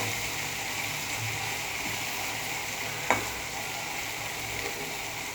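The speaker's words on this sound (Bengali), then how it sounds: "আমার বরবটি ভাজা হয়ে গেল," Yardlong beans fry in hot oil with chili and a little sugar, a steady close sizzle with light stirring and one sharp scrape of the spatula partway through.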